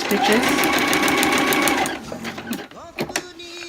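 Sewing machine stitching crepe paper party streamers with metallic thread, a loud, rapid continuous whir that stops partway, followed by handling clicks and a few soft bumps.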